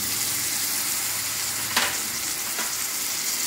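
Oil frying in a pan with a steady, even sizzle throughout, broken by one brief clink near the middle and a fainter one shortly after.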